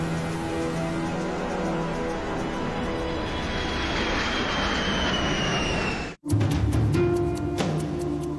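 Jet engines of a B-2 stealth bomber drone loudly and steadily before takeoff, a dense rising whine over a deep rumble that cuts out abruptly and resumes with a harsher, rattling texture.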